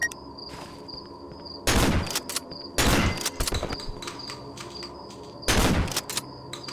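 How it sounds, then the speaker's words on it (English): Three loud, booming pump-action shotgun blasts in a video game, spaced a second or more apart, each with a sharp crack and rumbling tail, over a faint steady hum. "how solid this pump-action shotgun sounds"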